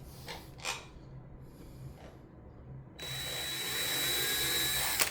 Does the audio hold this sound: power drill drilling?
yes